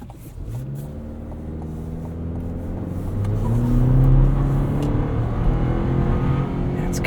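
A 2023 Chevrolet Colorado Trail Boss with a turbo engine accelerates through rising gear pulls, its coarse, industrial drone growing louder and then easing off, heard from inside with the windows down.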